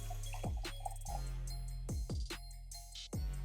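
Bourbon is poured into a glass in a few short, quiet bursts of trickling liquid, with drips and gurgles between the pours close by, and no talk.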